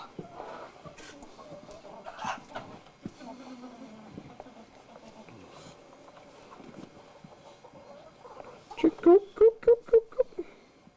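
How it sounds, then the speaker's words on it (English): Hundreds of chickens cluck and squawk in a busy, echoing market space, ending with a rapid series of loud, rhythmic clucks close by amid faint background chatter. "There's hundreds of chickens in here."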